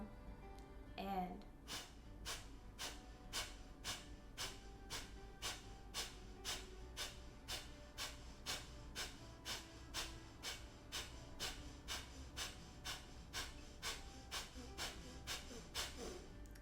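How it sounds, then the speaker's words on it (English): Kapalabhati breathing exercise: a steady series of rapid, forceful nasal exhales, about two per second, each a short sharp puff of breath, close and even throughout. "30 counts of Kapalabhati breathing"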